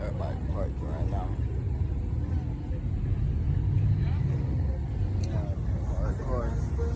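Cars rolling in and parking at a car meet, a steady low engine rumble with vehicles moving close by under ongoing voices and crowd chatter.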